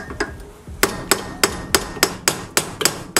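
Metal hammer striking a spare socket held against a wheel stud during a Nissan 370z brake upgrade, about ten sharp, ringing blows in a steady rhythm, close and loud.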